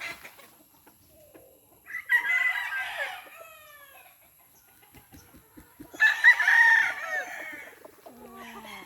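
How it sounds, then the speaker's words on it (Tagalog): A gamefowl broodcock rooster in a small backyard farm crows loudly twice, each crow a long bright call, with soft clucks and faint taps in the quiet gaps between. "Ito yung broodcock natin guys na 5K."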